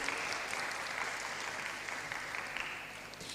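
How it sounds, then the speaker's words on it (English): Steady applause from a room full of people, a dense, even patter of clapping that carries on throughout. "Applause for the reviewers, please, ladies and gentlemen, and for the participants."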